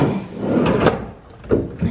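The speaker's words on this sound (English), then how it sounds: "Nice drawers." Drawers in a Hilton hotel room in Cabo San Lucas being pulled open and pushed shut, a few close wooden slides and knocks with a short pause between them, no talk.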